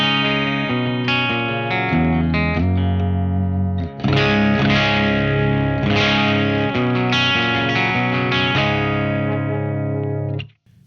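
An electric guitar played through a Victory VC35 The Copper amplifier rings out in gritty, overdriven chords and sustained notes, loud and full with a touch of reverb, ending abruptly near the close.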